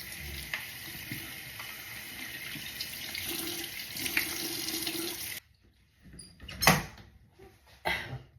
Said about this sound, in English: now let's rinse it off.